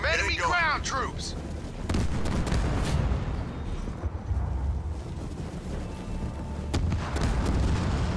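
Halo battle with Marines under fire from enemy ground troops: continuous gunfire and heavy explosive booms rumble throughout, loud and dense, while a brief voice is heard at the start.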